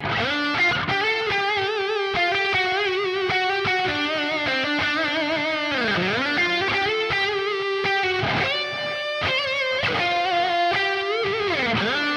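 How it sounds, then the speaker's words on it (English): A Gibson Les Paul Standard 60s electric guitar, on both pickups, plays a distorted lead line with sustained notes and bends, loud and continuous, with no voices. "Lead tones on both pickups."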